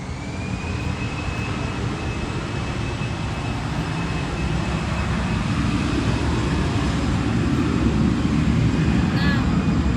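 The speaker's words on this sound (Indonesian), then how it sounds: "Tunggu sebentar ya, ada pesawat lewat." An airplane passes overhead with a steady, broad engine roar that slowly grows louder over ten seconds, a faint high whine running through it.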